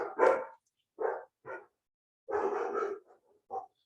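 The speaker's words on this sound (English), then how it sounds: "I have my dogs barking." Dogs bark indoors in a handful of separate, mid-distance woofs, with short pauses between them and a quick double bark near the end.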